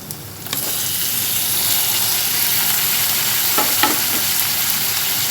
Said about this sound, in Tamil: தக்காளி சேர்த்து நல்லா வதக்கிக்கலாங்க